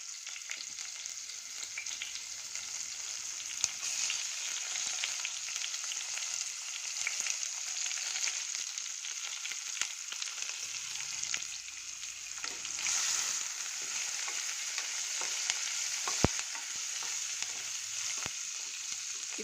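Chopped onion, green chilies and curry leaves sizzle in hot oil in a pan, a steady, close frying hiss with small pops and the occasional scrape of stirring, no one speaking.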